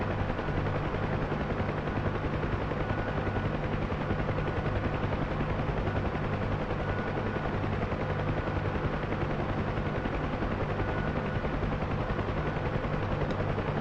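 A UH-1 Huey helicopter in the DCS flight simulator gives a steady, loud rotor thump and turbine drone that stays constant throughout, heard from inside with no talking.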